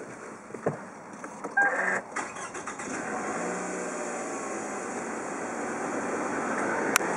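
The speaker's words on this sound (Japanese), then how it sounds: "エンジンをかけてみます。" A 2006 Toyota Camry 2.4G, a four-cylinder DOHC engine, cranks briefly after a few clicks and mechanical noises, then settles into a smooth, quiet, even idle heard from inside the car.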